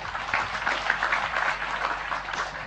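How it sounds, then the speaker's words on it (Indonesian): Crowd at an Indonesian religious lecture gathering applauding the questioners, a brief, steady wash of clapping at moderate loudness with no pauses. "Tepuk tangan untuk para petanya."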